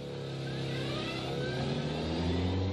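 A Citroën 2CV driving in reverse, its small engine holding a steady, close drone with a faint rise in pitch toward the end and no voices.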